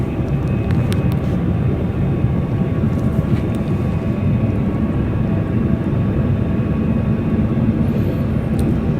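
Airplane engines roar during takeoff, heard from inside the aircraft as a loud, constant, low droning rumble that holds steady throughout with no talking.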